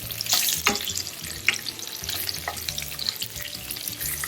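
Kachori filling with chili pieces frying in a pan while being stirred, a steady close sizzle broken by scraping spoon strokes and occasional louder clatters, no voices.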